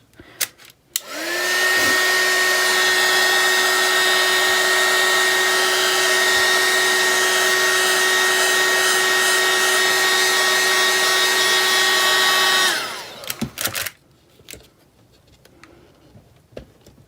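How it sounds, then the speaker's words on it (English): A heat gun blows steadily for about eleven seconds while softening poured resin in a swipe-technique cell pour, starting and stopping abruptly with a strong, constant whine and hiss, close and loud. "I may use the heat gun."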